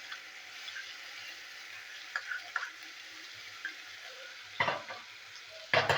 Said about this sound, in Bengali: তো আমি এগুলো দিয়ে দেবো, মশলাগুলো তেলের মধ্যে দিয়ে দেবো।